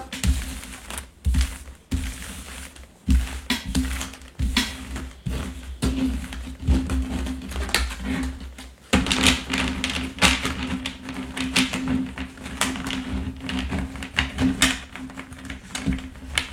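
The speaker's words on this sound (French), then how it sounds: "je vais mélanger pour donner un sens aux cartes" A deck of tarot cards is shuffled by hand, giving repeated riffling and tapping bursts with short pauses between rounds, close and moderately loud, no talking.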